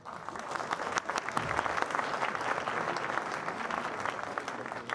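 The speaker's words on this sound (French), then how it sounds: "Et après on applaudit, juste pour voir." A crowd claps steadily and densely throughout at a French municipal New Year greetings event where an electoral list for Voiron is presented, the applause loud and continuous with no break.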